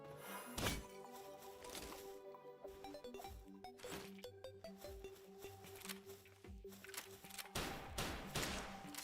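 Rapid bursts of gunfire ring out in the Palworld video game, a string of sharp, punchy shots scattered over several seconds against a busy bed of game music and effects.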